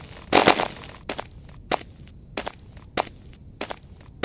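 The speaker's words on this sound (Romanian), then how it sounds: "Bă, m-a speriat de pașii mei" Footsteps crunch through a forest in the video game Night Clerk, a heavier scuffing step followed by five evenly spaced, crisp steps, close and clear over a faint steady hum.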